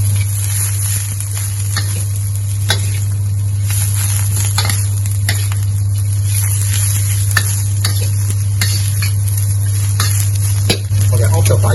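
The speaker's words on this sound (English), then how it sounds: "put in all the rest of the chive and then cook the oil first" Chinese chives stir-frying in hot oil, a continuous close sizzle under a strong steady low hum, punctuated by intermittent scrapes and taps of a spatula against the pan.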